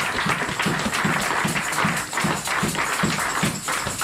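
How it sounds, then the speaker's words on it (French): A church congregation claps in a steady rhythmic beat during a lively service at CERR Toulouse, dense and continuous with faint voices mixed in. "On acclame pour la parole Amen."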